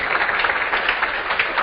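An audience claps together in a steady, dense burst of applause that stays close and even throughout, with no voices heard over it.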